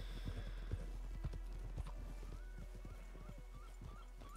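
Horse hooves clip-clop at a steady trot in the video game Red Dead Redemption 2, a run of close, sharp knocks over a low game ambience with no talking.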